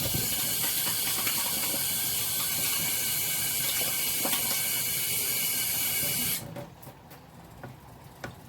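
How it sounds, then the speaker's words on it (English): Tap water runs with a steady, close hiss while hands are rinsed at a kitchen sink, then shuts off at about six seconds, leaving a few faint drips and clatters. "Let me rinse my hands."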